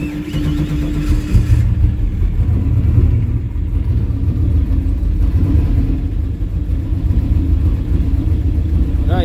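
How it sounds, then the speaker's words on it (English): A big-turbo G-body Chevrolet Malibu engine, running lean and turning over heavily, rumbles loud and close with a deep, steady, slightly uneven note and a few mild swells. "The engine feels like it's rotating really heavy."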